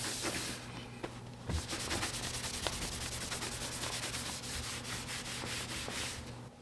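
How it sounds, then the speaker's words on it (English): A clean cloth buffs dried wax off a wooden cheese cutting board, giving a steady, close rubbing and swishing with rhythmic back-and-forth strokes over a low hum. "After it's had a little time to dry, you just buff out the wax with a clean cloth."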